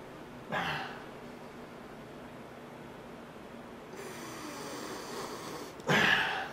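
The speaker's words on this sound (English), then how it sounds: "Let's give it a sniff." Two quick sniffs, close by, at a glass of pale ale, separated by a quiet stretch of faint background noise.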